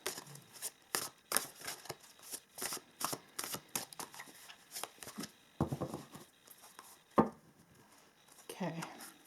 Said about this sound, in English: But let us also pull one of these cards.